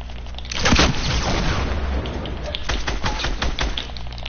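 A video-game rocket launcher fires and the rocket explodes in a loud, rumbling boom, followed by a dense stretch of rapid gunfire and impacts that fills the rest of the moment.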